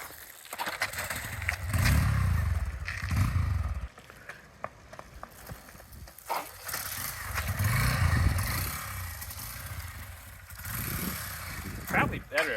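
A motorcycle with a dead battery is bump-started while being pushed, its engine rumbling in two low surges amid scuffing and road noise, with someone talking over much of it.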